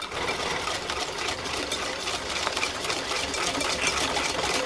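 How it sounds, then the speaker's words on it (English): A whisk beats eggs in a bowl as a ladle of hot mixture goes in for tempering, making a fast, continuous, close scratchy whirr with no pauses and no speech. "I'm going to ladle out just a little bit into my eggs and whisk it."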